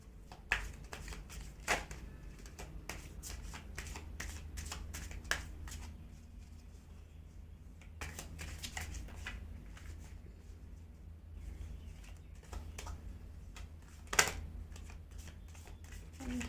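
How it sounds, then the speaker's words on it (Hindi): Tarot cards shuffled by hand during a pick-a-card reading give a quiet, close run of soft riffling flicks and paper rustles, with a few sharper snaps between them. "और कार्ड शफल करते हैं आपके लिए।"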